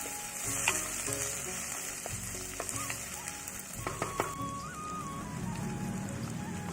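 Green chillies, mint, coriander and curry leaves sautéing with ginger and garlic for a chicken kulambu, a continuous soft sizzle with scattered spitting pops and occasional scraping of a spoon, moderately quiet and close.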